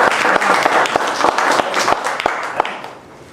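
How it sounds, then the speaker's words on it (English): Audience applause for a guest speaker about to give an evening talk on nectar plants, a dense steady clapping from a room-sized crowd that holds for about three seconds, then fades toward the end. "So before we get into the applause"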